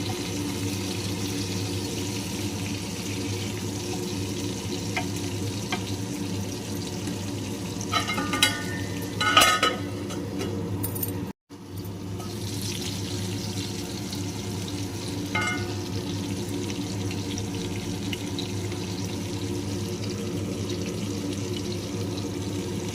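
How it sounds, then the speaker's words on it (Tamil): Marinated kala fish fries in hot oil with a steady, soft sizzle throughout, broken by a few brief clatters and scraping sounds partway through. "இதை நாங்கள் பொரிச்சு எடுத்துட்ருக்கோம்"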